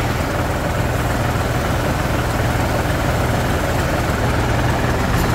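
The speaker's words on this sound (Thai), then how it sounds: "เครื่องยนต์ T11 ครับ" A T11 engine on a new Thai rotary tiller truck idles steadily, a continuous low rumbling drone with no talk over it.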